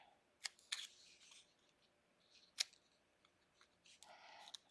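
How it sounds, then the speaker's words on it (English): Paper snips cut through paper for a craft banner: a few sharp, crisp snipping clicks spaced apart, close and fairly quiet, with a brief rustle of paper near the end. "I'm going to use some paper snips and turn it into a banner."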